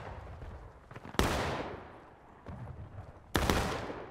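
Two sharp, loud volleys of gunfire in the battle game Generals at War, with many shots cracking together and a long echoing decay after each, separated by quieter background battle noise.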